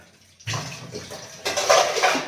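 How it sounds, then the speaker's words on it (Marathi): Water runs along a wide irrigation channel beside banana plants on a farm: a close, rushing gush that rises after a quiet start, eases slightly, then surges louder again, with no talking. "पाण्याची पाट तर दिसते मोठी आहे बघ"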